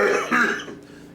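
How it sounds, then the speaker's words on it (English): A single harsh cough from a person with a cold, loud and close, fading out within about a second. "I'm coughing because I got a cold"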